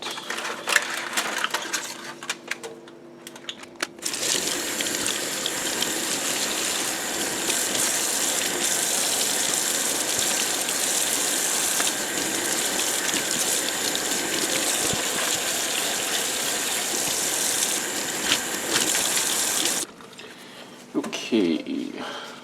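Water gushes steadily from a tap as tie-dyed fabric is rinsed out, a loud continuous splashing rush lasting most of the clip, with brief handling noises before and after.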